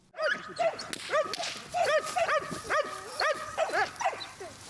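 Several National Guard service dogs bark repeatedly and overlapping nearby, a loud, rapid chorus of barking with no pauses.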